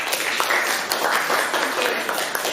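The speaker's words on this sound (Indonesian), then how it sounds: "terima kasih aplaus untuk kita semua anak-anak" A class of students applauds in a classroom at the end of a lesson, a steady patter of clapping for a couple of seconds with faint voices mixed in.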